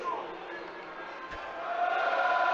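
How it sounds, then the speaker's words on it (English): Rugby stadium crowd at an Exeter versus Stormers European Champions Cup match, a steady broad roar of voices that swells louder toward the end, with a commentator talking over it. "Listen to the crowd."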